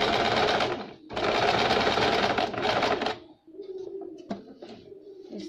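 A sewing machine stitches a back neck design in fast, loud whirring bursts with a short pause between them, then stops, leaving quieter handling noises and a faint hum.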